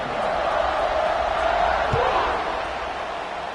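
A stadium crowd in an American football video game roars as a kickoff is set up, a loud, steady wash of massed cheering that fills the whole moment with no commentary heard over it.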